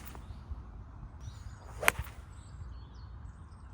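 A budget distance iron strikes a golf ball outdoors, one sharp crisp impact near the middle, with quiet ambient noise before and after.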